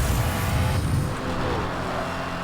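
Racing-game traffic in Need for Speed: Hot Pursuit (2010), with a continuous loud roar of engines and road noise from cars rushing past at high speed, dense and steady throughout with a slight easing partway through.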